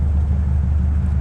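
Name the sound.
hot rod engine idling with straight-through mufflers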